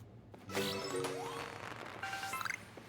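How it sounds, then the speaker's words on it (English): Firework exploding in the Pokémon Legends: Arceus video game, a crashing burst followed by ringing, tinkling sparkles and a trailing echo, heard alone at fairly low volume. "That firework echo is pretty awesome."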